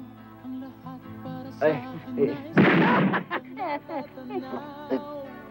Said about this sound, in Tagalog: Ismael, anong putok yun?